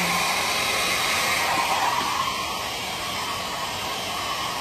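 A hair dryer blows in a continuous, even hissing whoosh, close and steady for the whole stretch with no voices.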